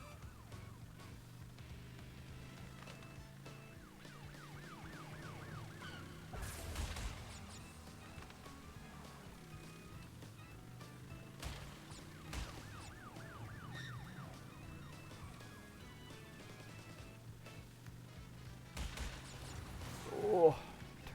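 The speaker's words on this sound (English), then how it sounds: "The police cars are moving." Police car sirens wail in the Crash Bandicoot Warped video game during a motorcycle race level, a steady siren tone running under game music and engine noise, with a player talking over it.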